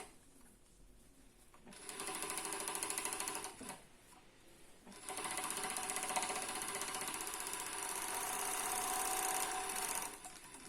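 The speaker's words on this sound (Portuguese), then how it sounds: "Olha lá, ó, passei a costurinha" Sewing machine stitching sweatshirt fleece fabric for a cuff, running in two loud steady bursts of rapid mechanical whirring with a brief pause between them, close up, with no talk.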